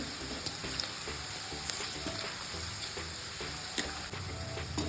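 Okra frying in hot oil over high heat until golden brown gives a steady, dense sizzle with faint stirring scrapes, close and continuous throughout.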